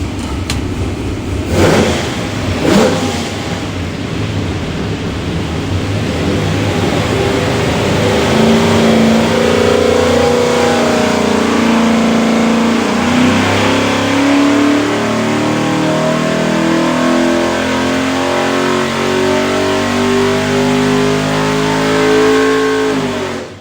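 Injected 427 Ford V8 with eight-stack injection roaring on a dyno, a loud sustained run that builds steadily in pitch as revs climb for about twenty seconds before cutting off, with no voices.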